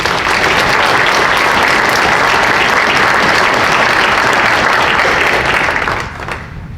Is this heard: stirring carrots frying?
no